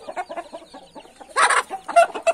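A chicken clucks in quick, close, choppy bursts, then breaks into a few louder, harsher squawks near the end.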